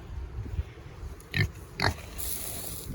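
A pet pig grunts while being fed in a greenhouse, giving a few short, close snorting grunts spaced irregularly over low background noise.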